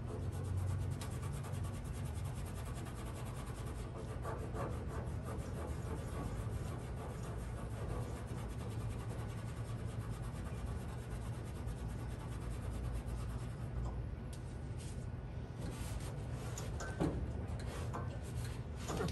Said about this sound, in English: I can probably polish that out because it's surface rust mostly.